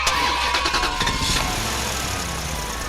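Cartoon car engine starting up and settling into a steady mid-pitched idle with a few revving bursts, loud and continuous with no talking.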